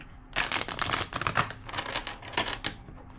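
Quick, crisp bursts of tarot cards being riffled and shuffled close up, several rapid flurries of papery clicks with short pauses between.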